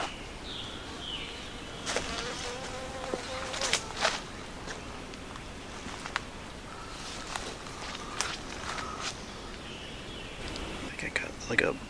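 A bee fly, a fly that mimics a bee, buzzes in a Pennsylvania natural area, its faint hum rising and fading under outdoor ambience, footsteps and soft speech.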